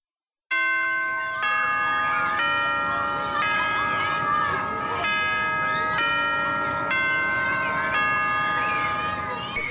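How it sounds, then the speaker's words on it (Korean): A school bell rings out during an outdoor live public radio broadcast, its loud, sustained metallic ding-dong tones repeating every second or so with a few faint voices beneath. "학교 종소리 들으셨죠?"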